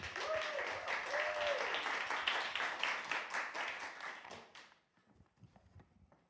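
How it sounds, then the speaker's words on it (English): Audience applause for two poets after a reading at a poetry event, a steady dense patter of many hands that fades out after about four and a half seconds, leaving quiet room sound. "A round of applause, please, for James and Pauline."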